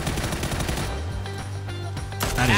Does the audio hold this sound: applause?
no